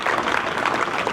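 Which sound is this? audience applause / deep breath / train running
audience applause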